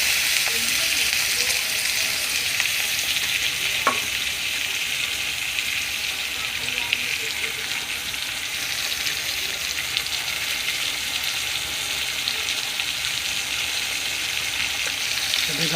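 Chicken meat frying in a pan, a loud continuous hissing sizzle that stays dense and steady throughout, with a few light clinks and no speech.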